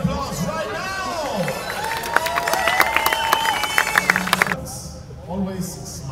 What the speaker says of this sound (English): give those young, daring people a big applause right now!